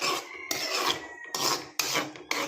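A spoon or spatula scrapes and stirs squid curry in a pan, in repeated rasping strokes that come in bursts with short pauses between them. The sound is close and moderately loud, and no one speaks.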